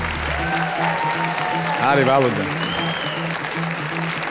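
Studio audience clapping on a televised singing competition gala show, a steady wash of applause running throughout, with a voice speaking over it and a sustained musical tone underneath.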